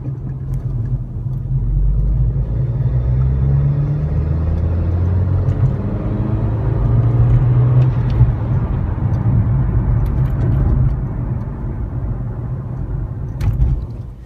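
A car on a boost-control setup run accelerates at full throttle in third gear, its engine building a loud, steady droning rumble that rises in pitch with a few faint clicks near the end.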